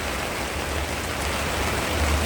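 Rain falls steadily and loud as a dense, even hiss, with heavier drops building toward the end, heard from under a leaky shelter beside a large storage warehouse holding sacks.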